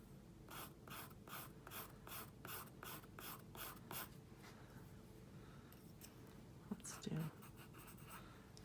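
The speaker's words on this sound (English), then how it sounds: "we'll do the HB, which is kind of right kind of in the middle, and we'll just do some hatching" Graphite HB pencil hatching lines on sketch paper, a run of quick, evenly spaced scratchy strokes that fade into softer, scattered scratching, close and fairly quiet, with no talking.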